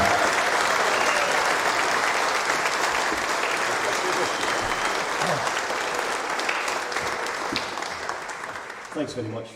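An audience claps loudly and continuously after a live Scottish fiddle duo performance, a dense steady wave of applause that holds for several seconds before thinning out near the end.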